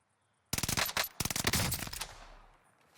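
Rapid automatic fire from a gun in Warzone: two close, loud bursts of quick shots with a brief gap between them, the second trailing off into a fading echo after a silent start.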